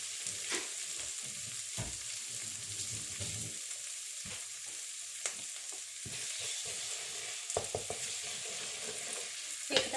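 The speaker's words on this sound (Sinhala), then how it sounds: "බිත්තර දෙකක් කඩලා දා ගන්නවා" Two eggs crack into a hot pan and fry with a soft, steady sizzle, the hiss continuous and fairly quiet with a few sharper pops and scraping clicks along the way.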